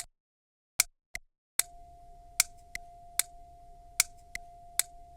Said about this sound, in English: So I had these massage balls that I just banged together.